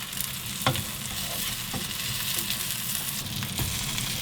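Eggplant pan-frying in cooking oil: a steady, dense sizzle fills the whole stretch, broken by a few faint clicks of stirring or a utensil touching the pan, with no talking.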